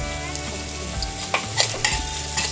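Chopped green chillies and garlic frying in oil over a slow flame, a steady close sizzle with a few clinks and scrapes of a spoon against the pan and no talking.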